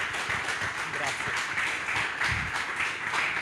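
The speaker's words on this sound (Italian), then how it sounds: "questo è un applauso" An audience applauds at the end of an astronomy lecture, with steady clapping that fills the space, a dense patter of many hands continuing for a few seconds.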